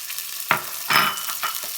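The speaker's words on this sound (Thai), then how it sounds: "หมูเราก็จะเทจวดๆ ลงไปเลยนะคะ" Roughly 150 to 200 grams of pork tipped into a hot pan for a Thai bamboo-shoot dish, hissing and sizzling loudly up close as it is stirred, with bursts of spatter and scraping and no voices.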